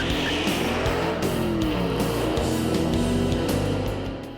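A Coyote-engined replica roadster races an original Shelby 427 Cobra, loud engines roaring continuously up close with rising and falling revs and a strained, tire-scrubbing edge before easing off at the end.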